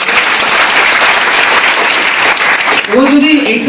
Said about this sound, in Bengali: আমি চাইবো ওর জন্য একটা হাততালি দেবে।